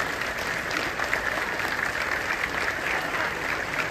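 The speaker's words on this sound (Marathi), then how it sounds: "आपण सगळे जोरदार टाळ्या उभं राहून वाजवू दादासाठी" A theatre audience on its feet applauding loudly, a dense continuous wash of many hands clapping throughout, with faint crowd murmur beneath.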